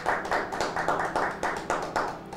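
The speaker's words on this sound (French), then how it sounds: "on acclame encore très fort pour vous, nous qui sommes au studio." A studio audience at a Christian worship broadcast applauds loudly and steadily, with rhythmic bursts of clapping swelling every half second or so, close and full throughout.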